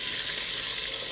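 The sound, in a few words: onions and garlic sizzling while sweating in oil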